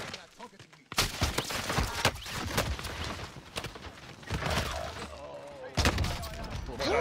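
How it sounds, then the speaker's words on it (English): Gunfire in the video game Call of Duty Warzone, with dense bursts of rapid shots at close range, broken by brief lulls and renewed volleys over about seven seconds. Players talk over the shooting. "Oh, I'm getting shot from behind."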